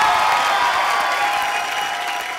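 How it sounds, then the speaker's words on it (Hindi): A studio audience at a comedy show bursts into loud, dense applause and cheering, a steady continuous wash of many hands clapping that fades slightly toward the end. "जोरदार तालियां।"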